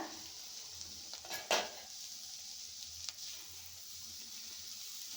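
Ponnaganti greens curry with dal frying in a pan, a soft steady sizzle with a sharp clink of a spoon against the pan and a few scraping stirs.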